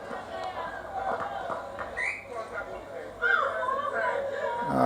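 Referee's whistle at a Netball Jamaica Elite League match, two short shrill blasts cutting through a continuous indoor crowd murmur, with the second toot followed by louder chatter.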